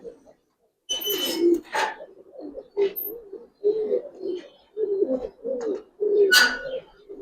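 Giribaz and coloured pigeons coo in a loft, repeated soft, throaty coos and calls close by, with someone talking over them between bursts.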